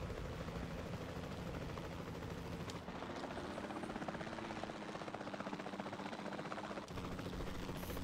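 A helicopter in the video game Jurassic World Evolution 2 drones with steady rotor thumping and engine whine, loud and continuous with a brief dip partway through.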